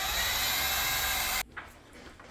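A power drill mixing epoxy for a countertop whirs loudly at a steady pitch for about a second and a half, then cuts off abruptly, leaving faint handling noises.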